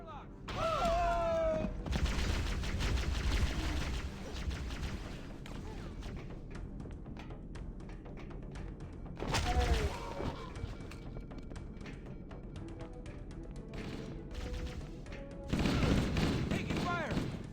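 Bursts of Halo video game gunfire and explosions rumble through a noisy battle soundtrack, loud clusters near the start, middle and end, with radio-style voices calling out in between.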